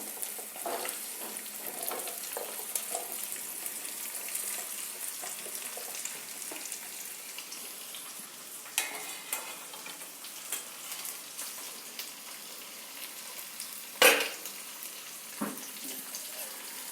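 Amla (Indian gooseberries) sizzle softly in a pan while being stirred, with a quiet steady fry, scattered scraping taps and one sharp clatter near the end.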